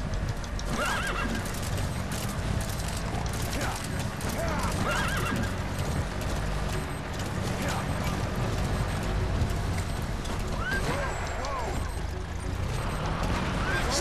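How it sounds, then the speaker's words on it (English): In Metal Gear Solid 5, a horse whinnies several times over steady clip-clopping hooves and a dense background of game noise, with occasional speech mixed in. "Get over here, stupid horse."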